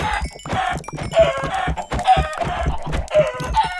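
Chickens in the Minecraft video game cluck loudly and repeatedly in quick, uneven bursts, with a few overlapping calls and no talking.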